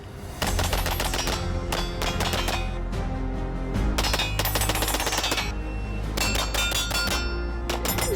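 A Nighthawk TRS 2011 pistol fires in a video game, heard as rapid bursts of loud, close metallic shots in dense clusters over continuous game music and background noise, with no talking.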